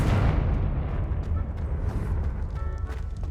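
A Confringo blasting spell detonates in Hogwarts Legacy, producing a loud, sustained rumbling boom with a heavy low roar that slowly fades over a few seconds.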